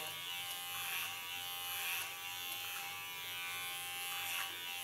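Electric hair clipper buzzing steadily through hair on a short pixie cut, a close continuous drone with slight swells as the blade moves, no talking.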